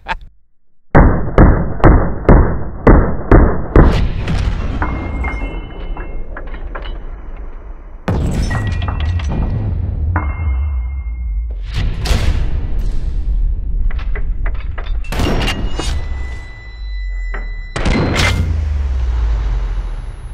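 A blank gun fires ten blank rounds at a head target in a ballistic test: a rapid string of sharp, loud bangs up front, followed by duller thumps and noisy bursts.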